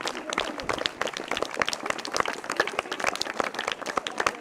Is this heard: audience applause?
yes